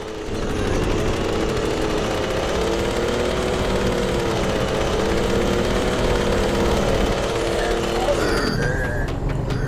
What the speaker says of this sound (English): the car is making a really horrible noise and going very slowly because it has sustained a lot of damage